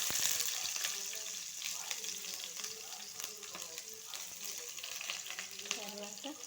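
Onions fry in hot oil in a pan for punugulu upma, a continuous crackling sizzle with scattered stirring taps and scrapes, fairly quiet and steady throughout, with faint voice in the background.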